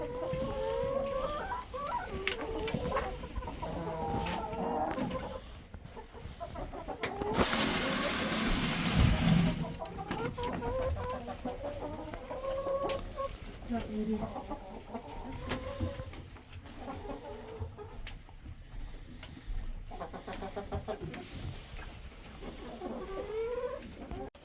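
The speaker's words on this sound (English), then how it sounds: "So most of our chickens are red sex links." Many red sex link chickens cluck and murmur steadily nearby inside a coop, with a burst of rustling noise partway through and occasional louder squawks.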